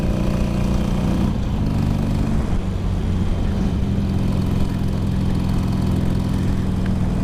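Harley-Davidson 883 Sportster engine drones steadily and loudly while riding through bends in fifth gear at around 40 mph, a continuous low rumble with a slight shift in pitch partway through.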